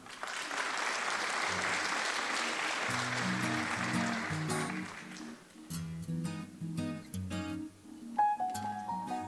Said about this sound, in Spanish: La recibimos con un gran aplauso.